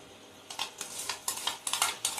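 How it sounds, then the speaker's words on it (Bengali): Whisked salted yogurt stirred into a rohu fish curry in a pan over medium heat, a quick series of soft rhythmic scrapes and clinks from a spoon against the pan, close and fairly faint. "দইটা দিয়ে কিন্তু অনবরত নাড়তে হবে"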